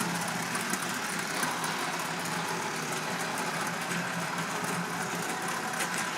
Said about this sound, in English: now they are running on my little train